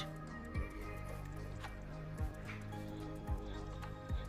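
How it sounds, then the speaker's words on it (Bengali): Tomato sauce goes into half a cup of water in a bowl, a faint, quiet series of about four soft wet drips and squishes at even intervals over a low background hum. "এই জলের মধ্যে এখন আমি দিয়ে দেব টমেটো সস দেড় চামচ"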